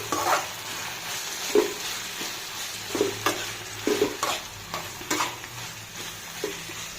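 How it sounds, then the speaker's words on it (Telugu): Grated raw mango stir-frying in a pan for tangy mango rice, with a continuous close sizzle and irregular spatula scrapes and taps against the metal as it is turned, and no talking. "అందులోనే తురుము పట్టిన మ్యాంగో కొంచెం వేయించాలండి, ఒక 2 to 3 minutes."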